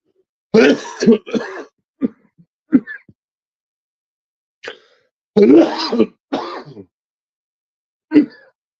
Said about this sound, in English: would start coughing